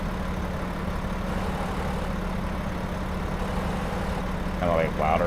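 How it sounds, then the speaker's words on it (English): A truck engine idles unevenly in American Truck Simulator, a low continuous rumble that swells louder and softer, with a brief voice near the end. "Oh, that engine sounds weird, doesn't it?"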